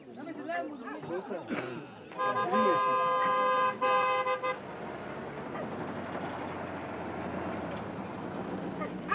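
A crowded jeep taxi driving in India, its horn sounding in a long sustained honk amid engine rumble and road noise, with passengers chattering and voices throughout.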